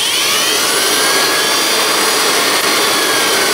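A Dumore tool-post grinder on a South Bend lathe whirs steadily with a loud, dense high-pitched hiss and drone that holds constant throughout, with no talking.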